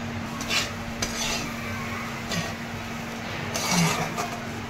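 A spatula stirs fried leftover chapati pieces with fresh coriander in a pan, giving light scraping and clinking against the metal over a steady low kitchen hum, close and moderately quiet.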